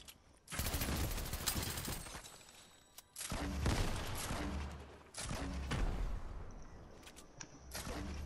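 Rapid automatic gunfire in a shoot 'em up video game, three long loud bursts of rattling shots separated by brief pauses, with short quieter gaps between volleys.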